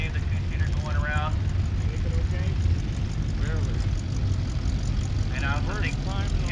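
Steady engine drone of a two-seater race car circling Barona Speedway during a lap, continuous and fairly loud, with people talking over it throughout.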